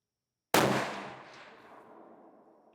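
A single sharp shot from a CVA Cascade XT rifle fired at a 200-yard target, a sudden loud crack followed by a long decaying outdoor echo.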